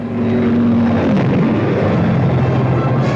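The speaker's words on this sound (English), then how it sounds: "their fighter escort followed them into the air." A WWII fighter escort aircraft taking off, heard as a loud, steady, close propeller-engine roar whose droning pitch slides slightly lower partway through, with no voices.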